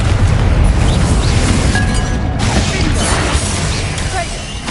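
A Confringo blasting curse in a Harry Potter video game bursts as a loud, dense explosive boom with crashing debris and rumble, sustained and filling the whole moment, with no talk over it.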